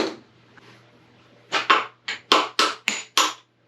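Hammer blows on the pump lock nut of a Graco 3400 line striping machine: six sharp metallic strikes in a fairly steady rhythm, close and loud after a quiet start.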